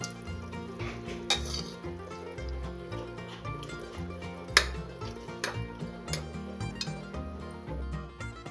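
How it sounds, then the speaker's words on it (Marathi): A spoon scrapes and knocks against a pot while mashed Khandeshi brinjal curry is stirred, giving irregular clinks and a few sharper metallic taps over a low background hum. "भाजी घोटल्यावर थोडी गचकवून घ्यायची, म्हणजे त्याला तेल छान सुटतं."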